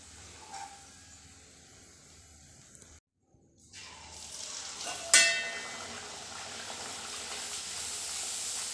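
Luchi, a puffed fried bread, sizzles in a mix of hot mustard oil and white oil, a steady bubbling hiss that drops out briefly, then returns louder with a sharp splash as dough hits the oil.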